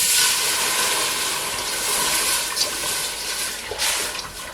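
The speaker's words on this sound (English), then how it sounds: "Let's add our water here." Water poured steadily into a cooking pot for homemade cream of chicken noodles, a continuous close, hissing splash that stays fairly loud throughout with slight swells.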